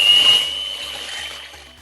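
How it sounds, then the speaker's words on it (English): An electric whisk beats double cream with a steady, close whirring drone and a thin high whine, continuous and fairly loud for a couple of seconds. "So cover your ears, let's get whisking"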